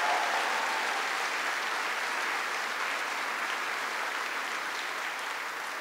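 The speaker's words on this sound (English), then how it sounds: "Give him a big round of applause." Sustained applause from a large audience at a Veterans Day ceremony in South Korea, greeting a visiting Korean general; a dense, steady wash of clapping that holds loud for the whole stretch and eases off slightly at the end.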